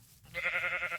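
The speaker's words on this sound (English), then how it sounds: "Sheep." A sheep bleating in the video game Minecraft, one wavering nasal bleat of under a second, clear and close, with no talking over it.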